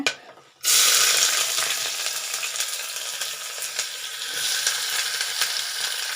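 Onions drop into hot oil with broken cinnamon bark, cloves and cardamom for a vegetable biryani, bursting into a loud, steady sizzle after a brief quiet start, with faint stirring scrapes through it.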